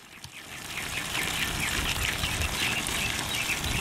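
Water gushing and gurgling as it drains through a bell siphon in a hydroponic pipe system, a steady, close rushing flow that builds after the first second.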